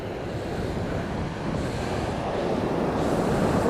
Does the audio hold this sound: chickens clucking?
no